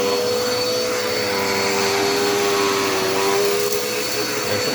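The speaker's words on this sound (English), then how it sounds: "I really love this little vacuum" A Dirt Devil Endura Reach vacuum cleaner runs steadily and loudly for the whole stretch with a constant motor whine and airflow roar, close by and without talk.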